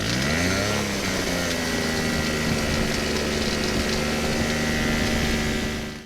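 Microlight aircraft engine racing after landing with a stuck throttle, holding around 3,500 RPM; a loud, close, steady droning buzz that rises briefly at the start and then stays constant until it cuts off.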